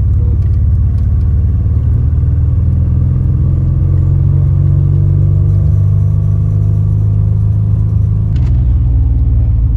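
An old French limousine with a Maserati V6 engine runs steadily, a loud, continuous low engine drone with a faint rise and a brief change in pitch near the end, with no talking.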